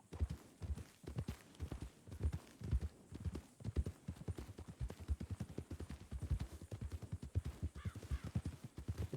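Horse hooves clip-clop in a steady, quick rhythm at close range in a Wild West video game, with a brief crow caw near the end.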